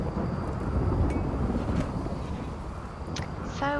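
Rumbling thunder and steady rain from a thunderstorm in the video game Rimworld, a dense, continuous roar of wind and downpour with a few faint brighter sounds near the end.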